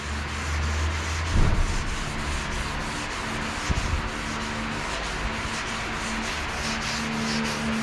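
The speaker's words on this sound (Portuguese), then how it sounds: "Aqui tu vai lixando até chegar na fita." Continuous rhythmic scratching of sandpaper rubbed back and forth by hand over a surface, steady and close, with a couple of louder knocks.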